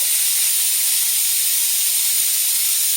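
An electric oil extractor draws engine oil out of a 2017 Volkswagen Golf Alltrack with a constant loud hiss, steady and close throughout.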